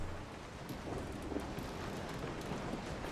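Steady rain falls in the survival horror game Resident Evil 7: Biohazard, a dense, even hiss with low rumble like distant thunder and wind, continuous throughout with no talking.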